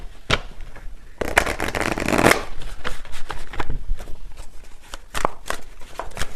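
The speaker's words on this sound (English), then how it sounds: "let me just get a final card here." Tarot cards are shuffled close by in sharp, riffling bursts with one long flurry and scattered quick snaps between, loud and without voices.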